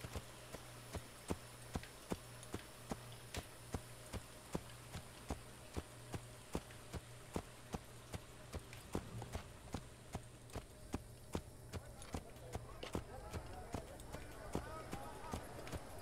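Horse hooves clip-clop at a steady, even trot from a black horse ridden by Altair in Assassin's Creed 1. The hoofbeats are fairly faint and continue through the whole stretch over a soft background.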